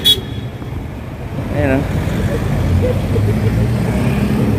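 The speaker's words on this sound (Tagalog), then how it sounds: "Nagka-traffic tayo dito." Road traffic at a crossing with no stoplight near Mall of Asia, a constant broadband roadway rumble of passing vehicles, with someone speaking briefly.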